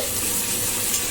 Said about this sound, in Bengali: এবার আমি একটা টমেটো কুচিয়ে রেখেছিলাম বড় সাইজের, সেটাও দিয়ে দিচ্ছি।